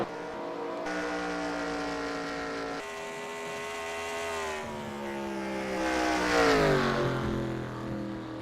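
Race car engines in the eNASCAR Heat video game race at Las Vegas, a steady high-pitched drone that shifts as cars pass, ending with a sharp rising and falling fly-by, moderately quiet throughout.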